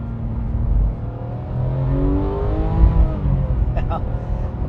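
Porsche 911 GT3 of the 991.2 generation with a PDK gearbox drops a gear on the road, the flat-six note sweeping up in a short blip, then settling under steady cabin drone; a voice speaks briefly over it.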